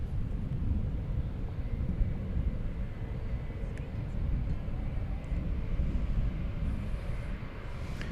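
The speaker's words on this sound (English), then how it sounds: "And here comes the flight from Denver." An airliner inbound from Denver on approach at DFW at night, a steady low rumbling roar held at a distance throughout, with faint radio chatter and voices underneath.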